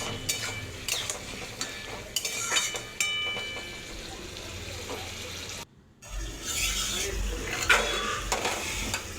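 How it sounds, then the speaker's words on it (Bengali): A spoon scrapes and stirs boiled pumpkin greens with sugar in a pan over a continuous sizzle. Several clattering strokes come before and after a brief cut to silence. "এবার উপর থেকে আমি চিনি দিয়ে দেবো, আবার নাড়িয়ে চাড়িয়ে নেব"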